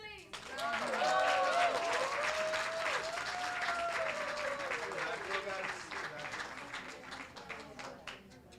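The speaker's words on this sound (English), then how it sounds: "Round of applause for the ladies." Audience applause for the women at a WEF New York event, rising quickly and holding fairly steady before gradually thinning, with a voice speaking over the clapping.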